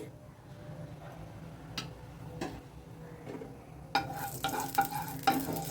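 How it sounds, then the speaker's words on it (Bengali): Mustard oil in a kadai on a gas stove, starting with quiet ticks and scattered taps, then breaking into a louder crackling sizzle with sharp pops near the end. "এখানে আমি এক টেবিল চামচ সর্ষের তেল দিয়ে দিচ্ছি"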